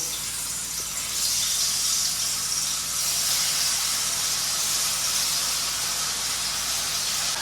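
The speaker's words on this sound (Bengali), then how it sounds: "পনিরগুলোকে মানে ভেজে ভেজে আজকে সাদা তেলে পনিরটা রান্না করবো" Paneer cubes frying in white cooking oil give off a steady, close sizzling hiss that holds for the whole stretch, with no one talking.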